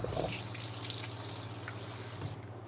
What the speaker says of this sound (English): And I'm going to rinse my hands.